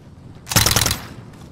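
Submachine gun fire in a 1v1 shooter video game comes as a single short, loud, rapid burst lasting about half a second, standing alone without talk.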